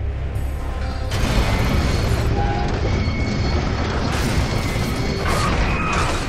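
In the Gears of War 2 video game, a large bridge mechanism connects with a loud, sustained mechanical rumble and grinding crash, dense and continuous for several seconds, with metallic clanks over it.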